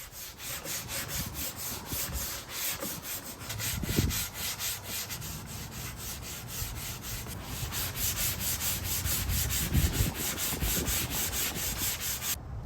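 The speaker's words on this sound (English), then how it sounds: "I moved on to sanding down the top while that worked, using 120 grit followed by 220." Steady sandpaper scraping across a wooden dresser top, 120 then 220 grit, continuous and close, with a rhythmic back-and-forth texture and a couple of heavier strokes.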